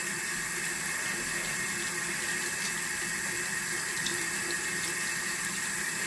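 Water runs steadily from a bathroom tap while someone washes off makeup, a constant loud rushing hiss that fills the whole stretch without pause or talk.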